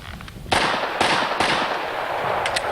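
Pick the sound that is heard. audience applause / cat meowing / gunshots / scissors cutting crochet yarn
gunshots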